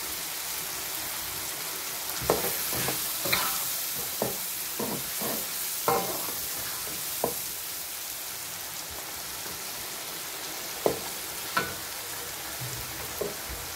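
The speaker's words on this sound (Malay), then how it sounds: "Apabila dia wangi, baru kita masukkan rempah dia." Spices for a beef curry fry in a pan with a steady, rain-like sizzle, broken by intermittent scraping stir strokes and occasional sharper pops, close and alone.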